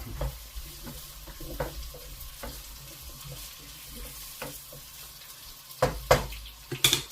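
Beef in black bean sauce being stirred in a hot pan: a continuous low sizzle broken by repeated scraping and clinking of the utensil against the pan, a few sharper knocks near the end, no talking.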